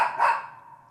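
A single dog bark rings out at a Thanksgiving Shabbat service, one brief, fairly loud yelp that quickly trails off into the room.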